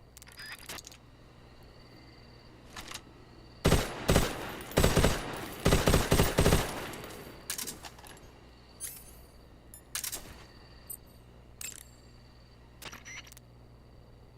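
Automatic gunfire from a machine gun fitted with a 100-round drum magazine in Metal Gear Solid 3: Snake Eater, with loud sustained bursts in the middle and scattered sharper shots before and after.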